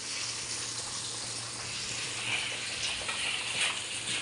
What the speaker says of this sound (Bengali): এই যে আমাদের এসব ভাই মাছটা ফ্রাই করতেছে মশলা দিয়ে অনেক।